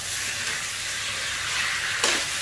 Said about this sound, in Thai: คั่ว 2-3 ทีค่ะ